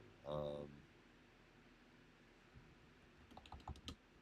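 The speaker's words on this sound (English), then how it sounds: "I can't mute it and not type at the same time" Soft, quick keystrokes on a computer keyboard are heard near the end, after a brief voice at the start and a stretch of quiet room noise.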